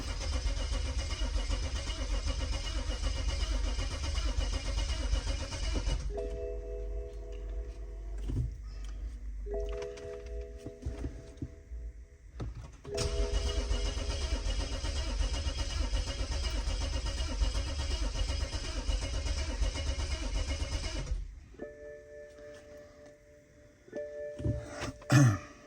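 A BMW F10 535i xDrive engine fires up for the first time after a full timing chain replacement, running loud and steady for several seconds, cutting out, then restarting and running again before shutting off.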